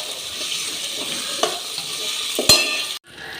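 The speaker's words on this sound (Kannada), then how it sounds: "ಎಲ್ಲನೂ ಹಾಕ್ಕೊಂಡು ಫ್ರೈ ಮಾಡ್ಕೋಬೇಕು." Cashews and tomato fry in a pan for mushroom gravy, with a steady close sizzle and a couple of stirring scrapes before the sound cuts off sharply.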